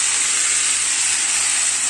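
Chopped bitter gourd hitting a hot pan produces a steady, loud broadband sizzle that holds evenly for the whole stretch, with no voices over it.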